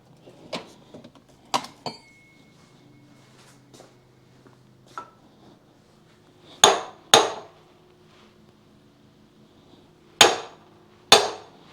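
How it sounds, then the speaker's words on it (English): A hammer strikes a brass drift against the axle of a 1928 John Deere D tractor, giving sharp metallic blows: a few light taps at first, then two pairs of heavy, ringing hits separated by quiet pauses. "maybe a brass drift and a hammer just to get things moving"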